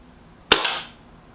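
A single sharp shot from a Kral Empire X bullpup air rifle firing a Hades pellet, a crisp close crack with a short fading tail, alone against quiet surroundings.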